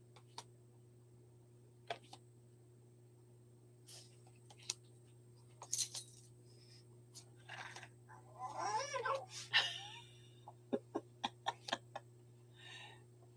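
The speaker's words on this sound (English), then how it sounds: "And Jason, can you hear her fussing at me? Sounds like a little cat." A small cat fusses indoors with a short run of meows and chirps in the middle, set among scattered ticks and clicks over a steady low electrical hum.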